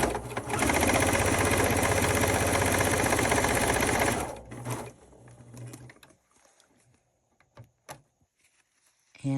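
A sewing machine stitches a quarter-inch seam in quilting fabric, running loud and steady for about four seconds before stopping, followed by quiet handling clicks and rustles.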